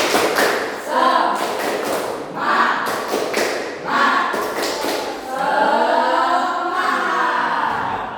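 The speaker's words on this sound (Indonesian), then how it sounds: "kita ulangi sekali lagi tepuk semangatnya, agar semangat" Tepuk semangat clapping by a class of schoolchildren, rhythmic bursts of many hands in quick patterned groups, loud and close, with children's voices chanting between the claps.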